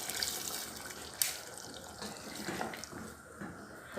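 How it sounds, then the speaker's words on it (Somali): Water poured into a cooking pot with potato pieces, a steady splashing trickle close by with small gurgles throughout, no talk. "xoogaa yaris biyo ku daraya"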